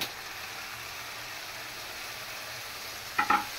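Fish frying in a pan with whole tomatoes gives a steady, even sizzle throughout, with a couple of brief clatters near the end.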